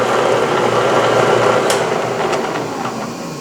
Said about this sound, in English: I'm just going to countersink the top of that hole a little bit.